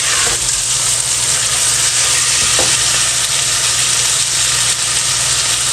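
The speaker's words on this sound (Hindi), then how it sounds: "चिकन डाल देते हैं। इसको अच्छी तरह भून लेते हैं गोश्त को।" Chicken meat fries and is stirred in a pan with onions, a loud continuous sizzle with occasional scraping of the spoon, close up and with no talking.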